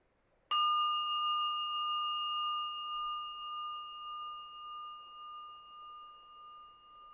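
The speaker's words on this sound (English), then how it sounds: "Allowing the sound of the bell to seamlessly welcome you" A single meditation bell is struck once and rings out clearly with a long, pure sustained tone that slowly fades while gently pulsing, alone in a quiet room.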